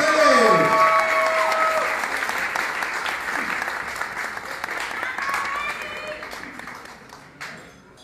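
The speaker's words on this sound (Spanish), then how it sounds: "¡Fuerte el aplauso para ellos!" A crowd applauds enthusiastically, the clapping loud at first and gradually fading, with voices and cheers mixed in.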